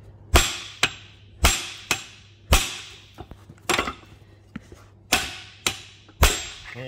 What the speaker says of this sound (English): so nice good couple of hard hits right there